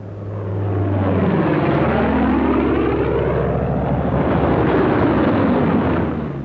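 P-47 Thunderbolt fighter planes come in low and peel up, their piston engines building to a loud, continuous roar with a sweeping drone that swells and holds close overhead.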